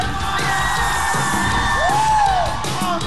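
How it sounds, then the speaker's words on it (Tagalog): A live studio audience keeps up a dense, continuous roar of shouting and cheering, with whoops and yells rising above the crowd noise throughout. "Gusto ko marinig ang malakas yung sigawan!"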